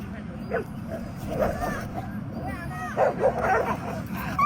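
A police dog in training yips, barks and whimpers in short bursts, fairly close, over a steady background murmur and noise.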